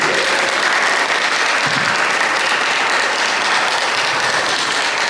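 A big round of applause at a Sri Ramseva Dal gathering, loud and continuous clapping that holds steady from start to finish.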